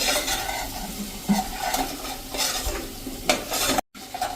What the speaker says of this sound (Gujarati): એટલે સરસ આપણો મસાલો સરસ તેલમાં કૂક થઈ જાય